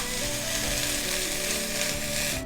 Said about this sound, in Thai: เราก็ผัดให้ยุบนิดหน่อยนะคะ